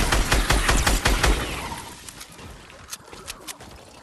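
Fortnite video game gunfire: a rapid, loud burst of automatic shots at first, then fading to a few scattered, more distant shots.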